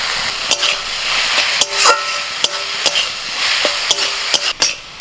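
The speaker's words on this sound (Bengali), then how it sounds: "এবার শাকটা দিয়ে দিচ্ছি।" Boiled taro greens tipped into a hot oiled pan with prawns and stirred, giving a steady loud sizzle broken by repeated sharp clinks of a spatula against the pan.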